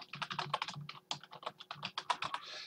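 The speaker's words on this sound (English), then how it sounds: "So I'm going to type in here," Close, crisp typing on a computer keyboard, a rapid irregular run of clicky keystrokes with brief pauses between words, heard alone without talk.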